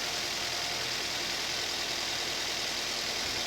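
Daihatsu Terios engine fitted with a cold air intake, running with its revs raised as the throttle is opened, a steady continuous hum without clear surges, heard alone at moderate loudness.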